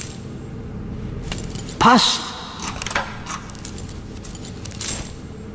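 A bunch of keys jangling in The Raven adventure game, a bright metallic rattle and clink around the middle, with a few lighter clinks after it and someone speaking briefly.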